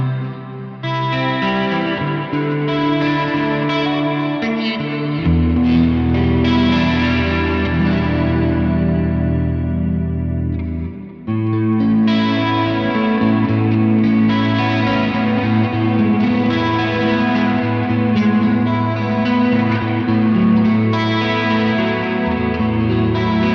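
A Neural DSP Mesa Boogie Mark IIC+ guitar amp plugin plays sustained chords and riffs with lush reverb and a chorus-tinged shimmer, loud and continuous with a brief gap midway, no voices.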